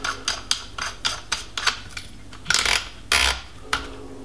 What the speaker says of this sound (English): And it's tight, and there's a detent you can hear there.